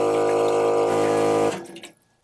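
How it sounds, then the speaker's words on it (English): Water runs loudly from an electric pump-fed tap in a 1978 VW bus camper, a steady pouring stream that stops abruptly after about a second and a half, leaving a faint trickle and quiet. "but now you got running water"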